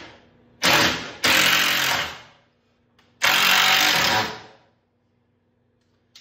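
A power drill drilling into wood on a boat stem whirs loudly in two bursts, each spinning up then winding down, with short pauses between and quiet afterward.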